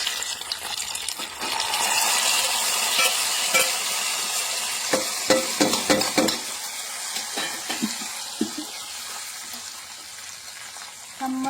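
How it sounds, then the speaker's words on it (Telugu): Hot tempering is poured into tamarind paste for pulihora and bursts into a loud sizzle, followed by a fading hiss broken by clinks and scrapes as a spoon stirs the mixture in the vessel. "ఇప్పుడు ముందుగా మనం రెడీ చేసి పెట్టుకున్న చింతపండు పులుసులో ఇది పోసేయాలి."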